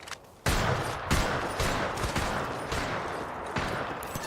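Rapid bursts of gunfire rattle through a video game shooter, loud repeated volleys starting abruptly and continuing in quick, dense clusters with a few sharper shots standing out.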